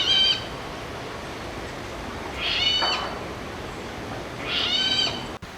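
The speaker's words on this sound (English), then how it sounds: "It's actually one of the UK's shyest and most elusive birds, the water rail." A water rail calls from a freshwater margin, giving three squealing, pig-like shrieks spaced a couple of seconds apart, moderately near over a quiet hiss of background.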